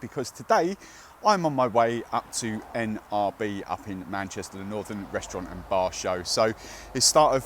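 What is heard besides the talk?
No everyday noises stand out.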